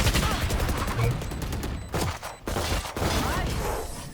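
Rapid gunfire from Valorant gameplay with the agent Jett: dense, repeated shots and clattering bursts that continue throughout, with a voice talking faintly underneath.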